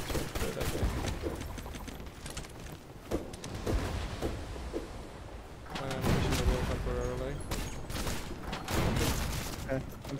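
Cannon and gun fire in the pirate ship game Blazing Sails, repeated booming shots and rumbling blasts over ten seconds, some near and heavy, mixed with ongoing players' talk.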